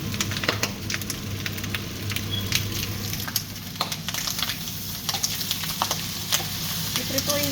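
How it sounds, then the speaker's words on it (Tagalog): Food frying in a pan, crackling and sizzling steadily at close range with scattered scrapes and pops, over a low steady hum. "Iprituin ko muna to"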